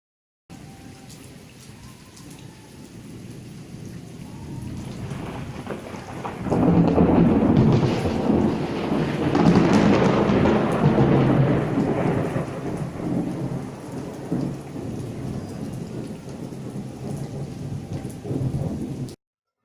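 Thunder at night rolls in loud and rumbling partway through, over steady rain pattering on surfaces, the thunder's low roar building then slowly fading under the continuing downpour.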